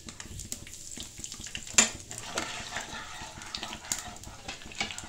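Mustard seeds, cumin and asafoetida crackling and sizzling in hot oil for a tempering, with steady stirring and occasional clinks of the pan in a home kitchen.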